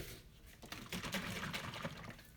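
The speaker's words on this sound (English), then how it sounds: "I'm going to put some buttermilk in it." Buttermilk pours into dumpling dough for chicken and dumplings, making a brief, faint, soft liquid trickle and splash close by in a quiet kitchen.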